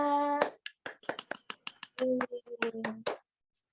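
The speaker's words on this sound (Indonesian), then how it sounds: "Tepuk tangan untuk semuanya." A class of fifth-grade schoolchildren claps hands in a quick rhythmic pattern while voices chant along in sung, tonal phrases, the sharp claps coming in close bursts.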